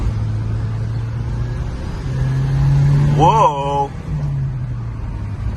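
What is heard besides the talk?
1984 Saab 900 Turbo accelerating on highway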